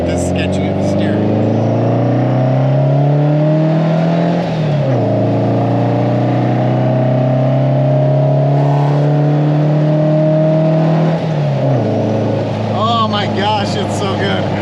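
A 1956 VW engine fitted with 40mm Dellorto carburetors runs smooth and steady, a loud close drone putting along, with the pitch sagging briefly twice before settling again.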